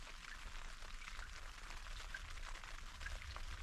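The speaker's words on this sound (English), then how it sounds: "But as you can hear, it's just raining." Rain falls on a MiniCat 520 Explorer small cruising catamaran in the Stockholm archipelago, a soft, steady, even patter and hiss with no wind and no voices.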